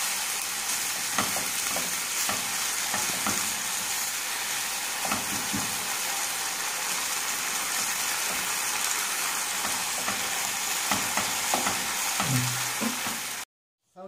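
Chopped onion and chicken breast frying in a pan for a chicken and courgette gratin, giving a steady, close hiss and crackle of sizzling oil that runs without a break before cutting off abruptly.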